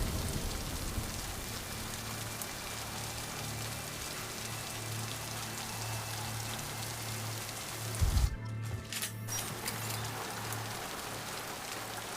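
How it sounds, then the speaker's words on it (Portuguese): Steady rain from the video game Mass Effect Legendary Edition hisses evenly and softly throughout, with a brief low thump partway through and no talking. "Sair dessa chuva? Vamos sair dessa chuva."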